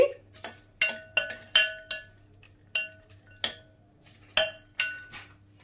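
A spoon clinks against a bowl as cashews and raisins are mixed, giving a dozen or so sharp, ringing taps at an uneven pace, close and clear, with a faint steady hum beneath.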